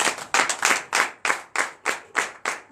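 A church congregation at a night deliverance and prophecy service in Comè, Benin, claps in a steady rhythmic beat, roughly three claps per second, fairly close and unaccompanied by talk.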